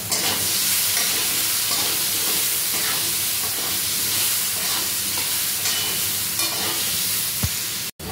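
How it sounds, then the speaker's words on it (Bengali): Potato pieces seasoned with turmeric and salt fry in a pan, a loud, dense, steady sizzle filling the whole stretch with faint stirring scrapes underneath, stopping abruptly at the end. "আলুগুলোকে একটু নেড়ে চেড়ে প্রথমে ভেজে তুলে রাখবো"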